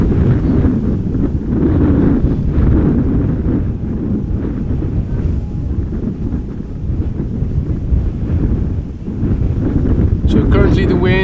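Strong crosswind at Amsterdam Schiphol Airport roars steadily into the microphone, a loud continuous buffeting rumble with gusts that never lets up across the whole stretch.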